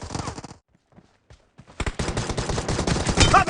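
Pistol gunfire from a team deathmatch round of the mobile shooter BGMI, loud cracking bursts opening the clip, then a short lull and a dense run of rapid shots with game effects filling the last stretch.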